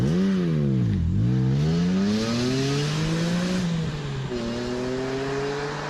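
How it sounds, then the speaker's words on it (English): BMW E46 M3 with its S54 engine sends out a close, continuous exhaust note while driving, the pitch dipping briefly and then climbing steadily under acceleration before easing into a smooth, even drone. "That exhaust is quite"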